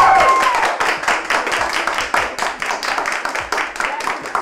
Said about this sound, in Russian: Друзья, ваши аплодисменты.